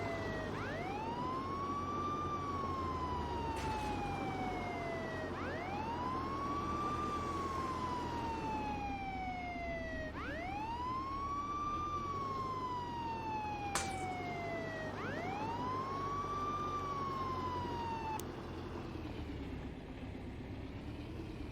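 A wailing police car siren in the video game Contraband Police rises and falls in steady repeated cycles, continuous and prominent over a low engine-like rumble.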